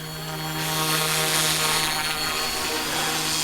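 A steady, loud whirring drone of a small RC helicopter rotor hovering close by, high-pitched and constant with a slight rise, no voices.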